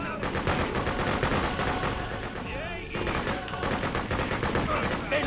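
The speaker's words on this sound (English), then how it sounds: "We're taking fire." Dense, continuous gunfire in the shooter game Freedom Fighters, with rapid automatic bursts and overlapping shots filling the whole stretch at loud, steady intensity, with a brief dip partway through.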